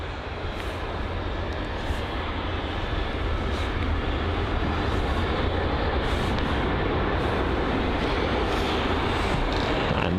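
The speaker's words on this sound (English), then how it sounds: "a taxiing A350 on the other side of the runway" An Airbus A350 taxiing across the runway at London Heathrow, a steady, even jet engine rumble and whine heard from a distance, holding at one level with no talking.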